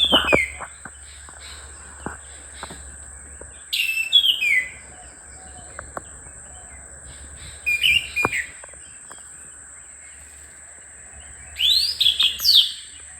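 Birds chirp in short bright bursts every few seconds, clusters of quick high tweets over a steady faint insect-like hum.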